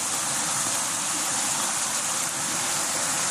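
Strong floodwater current rushes in a constant, loud, broadband roar, close and unbroken throughout with no voices.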